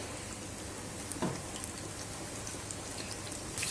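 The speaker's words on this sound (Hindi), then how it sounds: "मैं इसके अंदर एक एक करके रख लूँगा। बिस्मिल्लाहिर्रहमानिर्रहीम। मीडियम फ्लेम पे करके इसको फ्राई करना" Breaded KFC-style chicken pieces fry in hot oil over a medium flame, giving a steady, dense crackling sizzle with a few brief louder pops.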